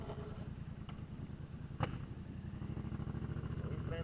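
A Yamaha MT-07 motorcycle engine warms up at a steady idle, a continuous low throbbing rumble heard close and alone, with a couple of faint clicks.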